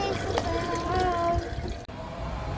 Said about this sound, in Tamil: இதை ப்ரெஸ் பண்ணால் நமக்கு தண்ணி வந்துடும்.